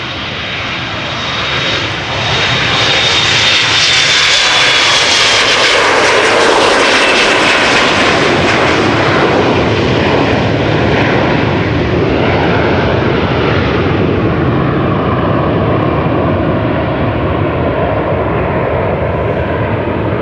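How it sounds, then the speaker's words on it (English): Delta Air Lines Airbus A330-300 jet departing Amsterdam Schiphol, a loud, close, sustained engine roar that swells after the first couple of seconds and holds strong for about twenty seconds, with a thin whine fading early. "The airplane next will be Delta Airlines flight 161 to Minneapolis, Minnesota"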